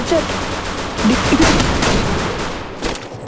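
Bursts of gunfire in the video game Free Fire crackle in rapid, close volleys that swell and fade over a few seconds, with faint voices underneath.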